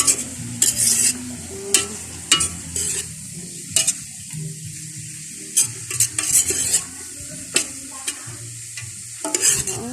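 Half-cooked lumpia fry in a pan with a steady close sizzle, broken by sharp scraping and clinking strokes from a utensil against the pan.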